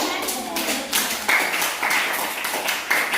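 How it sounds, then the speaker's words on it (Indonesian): A class of students clapping hands in a classroom, a run of quick, close claps coming in short bursts, with voices talking over the clapping. "semuanya di upload tepuk tangan, clap hands"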